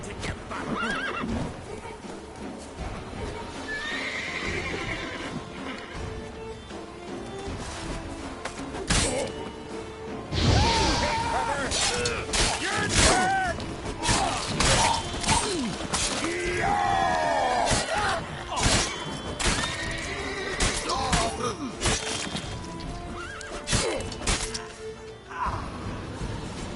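Roach, a horse in The Witcher 3, neighs and whinnies over steady galloping hoofbeats, loud and close, with a noisy busy background throughout.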